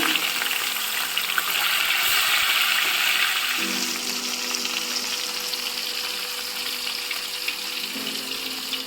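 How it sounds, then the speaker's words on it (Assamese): A steady, dense sizzle of rohu fish frying in a pan fills the clip, loud and continuous with a faint low hum partway through. "এনেদৰে আটাখিনি ভাজি ল'ম।"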